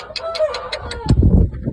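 A young Shamo gamecock stag crows and clucks close by, its voice mixed with rhythmic ticking and low thumping and rustling sounds toward the end.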